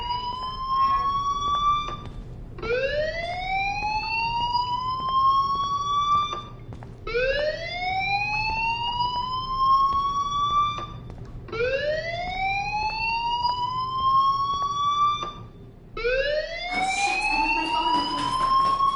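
Fire alarm in the video game Life is Strange wails in repeated rising electronic sweeps, about four cycles at steady loudness, with a harsher burst near the end.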